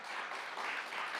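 Audience at a Los Angeles City Attorney town hall applauding in a brief, dense burst of many hands, steady and moderately loud throughout.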